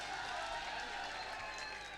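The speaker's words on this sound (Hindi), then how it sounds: "जोरदार तालियों से इस्तकबाल कीजिए" Applause from an audience welcoming the next speaker at a public political gathering, a steady dense wash of many hands clapping throughout, fairly loud and continuous with no pauses.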